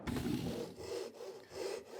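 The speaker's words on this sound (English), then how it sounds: "I'm using a Japanese style razor saw to cut 20 back spindles that have been out of red oak" A Japanese-style razor saw cuts through a red oak spindle five-eighths of an inch thick, with close, rhythmic rasping strokes back and forth, about three passes, heard alone.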